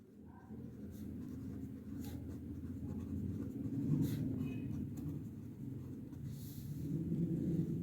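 A pen writes out a calculus reduction formula on paper with a steady, close scratching texture under a low background rumble, with no clear talk.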